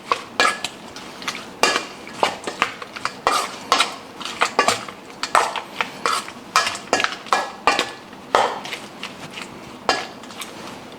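Prawns being tossed with salt and Spanish paprika in a bowl, producing a steady run of close, sharp clinks and scrapes of utensil against dish, with no talk.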